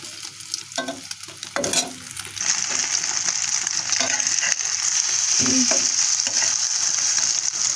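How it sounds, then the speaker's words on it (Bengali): Eggs fry in oil in a wok on a gas stove, giving a loud, steady sizzle with occasional scrapes and stirring clatter, and no voices. "ডিম ভাজতেছি"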